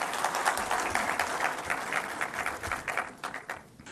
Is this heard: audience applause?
yes